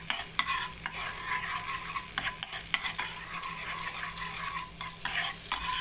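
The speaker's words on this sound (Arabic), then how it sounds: "نعمل بقى طشة التومة كده بقى بالسمنة البلدي" Garlic fries in ghee for molokhia, a bright steady sizzle broken by repeated scrapes and clicks of stirring against the pan, close and loud, with no talking.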